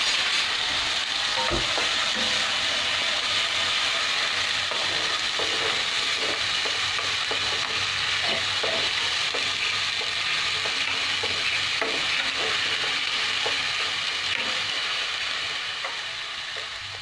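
Onion paste frying and being stirred in a pan, a steady close sizzle running throughout with scattered scraping clicks of a spoon against the pan, tapering slightly at the end.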